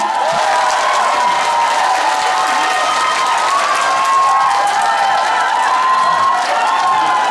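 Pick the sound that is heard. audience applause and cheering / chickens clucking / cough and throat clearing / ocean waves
audience applause and cheering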